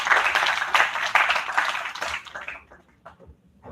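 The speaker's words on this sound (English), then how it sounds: "So a big hand of applause for our director," Audience at an international conference claps loudly for the director, dense applause that thins out and trails off into a few scattered claps near the end.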